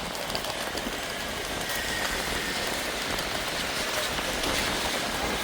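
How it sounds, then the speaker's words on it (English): Steady rain falling on a surface in Riga, Latvia, a dense continuous patter with no voices, even and unbroken throughout. "What a rainy day here in Latvia."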